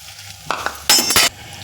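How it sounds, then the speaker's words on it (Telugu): Jackfruit seeds are stirred into hot tempering oil, a quiet background with a few scrapes and clinks, then two loud, sharp bursts of sizzle close by. "పోపులో వేసేసానండి వీటిని అంతటిని కలిపెడదాం"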